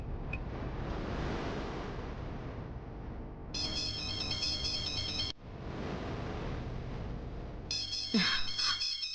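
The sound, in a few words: phone ringtone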